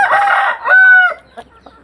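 A rooster crows once, loud and close, its harsh rising call lasting about a second before trailing off into faint clucks.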